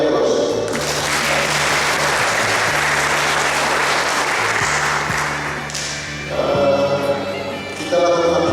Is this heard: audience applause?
yes